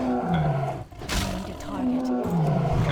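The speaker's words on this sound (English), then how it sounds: "I hear the wolf." Growling wolf from the video game World of Warcraft Classic, set in Ashenvale: loud, rough roaring growls in repeated drawn-out bursts, with a sharp swipe-like noise midway.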